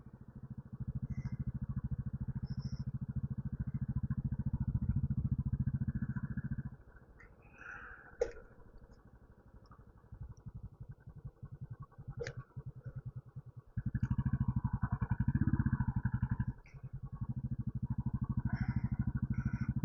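A restored Royal Enfield Classic 500 thumps along on a night ride, its low engine note loud and steady, dipping as the throttle eases, with a few clicks and rattles before the rumble swells back up.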